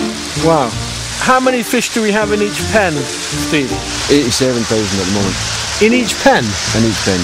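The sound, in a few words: feed pellets rattling through compressed-air pipes at salmon farm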